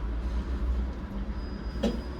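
A tram sits at a multimodal transit platform in Le Mans, a low rumbling hum of the rail vehicle near and steady, with a brief sharp hiss or squeal toward the end.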